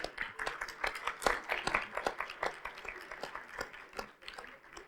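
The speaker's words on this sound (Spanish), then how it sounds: "Un fuerte aplauso para ella, por favor." Audience applause for a speaker at a Spanish-language arts event, scattered uneven claps from a modest crowd at moderate distance, somewhat faint and irregular in rhythm.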